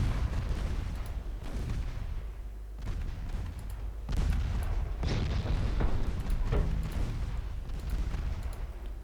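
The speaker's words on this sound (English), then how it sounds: "Actually launching some torpedoes for a change." Torpedoes launch from warships in Ultimate Admiral Dreadnoughts amid a naval battle, with a heavy, continuous wash of booming thuds and rumbling blasts, loud and dense throughout without any voices.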